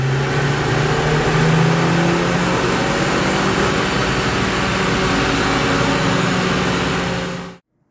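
A factory-stock Dena turbo sedan with a six-speed manual, 6000 km on it, revs hard and steadily on a dyno for about seven seconds. The loud engine roar holds throughout, then cuts off abruptly near the end.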